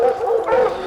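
Hunting dogs bark and yip at the start of a black bear hunt: two or three excited, close, loud barks in quick succession, with no talking.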